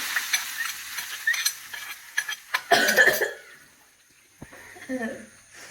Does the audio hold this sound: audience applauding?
no